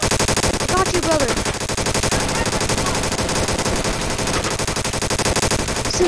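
A video game machine gun fires in a dense, continuous rattling burst, loud and close, sustained without pause for several seconds during a war roleplay session.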